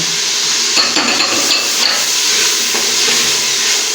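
Green chilies are stirred into masala frying in a pan for matar keema, a loud steady sizzle with a few scraping stirs near the start, close up and without talk.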